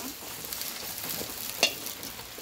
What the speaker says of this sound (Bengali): এবার আমি আলুটা ভেজে নেব।